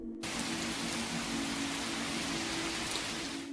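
Steady rain on a cold night, a dense even hiss that fills the whole stretch after a brief silent start, with a low constant hum beneath and no voices.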